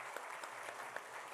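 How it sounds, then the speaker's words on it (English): Steady applause from an audience at a centenary celebration for a swami, a continuous soft patter of many hands at moderate distance, fairly faint and even throughout. "another round of applause for all of our senior devotees"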